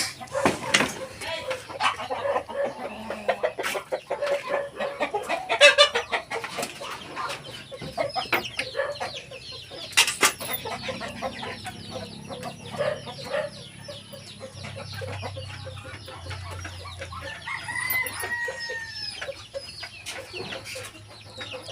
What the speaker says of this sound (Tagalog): Dito naman po crossbreed Black Australorp yung roster at saka yung hen